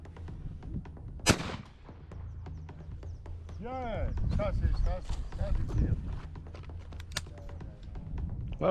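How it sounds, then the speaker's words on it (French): A shotgun fires while hunting francolins and doves in Senegal: a sharp, loud report rings out early and a second crack follows later, amid people talking and outdoor shuffling. "aujourd'hui je tire un peu comme d'habitude"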